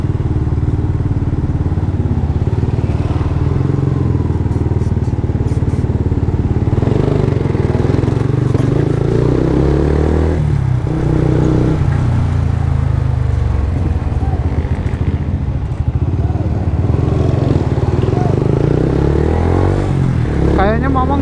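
Motorcycles ride past on a road in Karawang, Indonesia, including a Yamaha Vixion on a touring trip, with a loud, steady engine drone and rising and falling revs across the whole stretch, alongside constant wind rumble.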